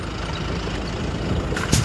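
A vehicle rolls in through a company gate, its engine giving a steady low rumble that ends with a short hiss and clunk.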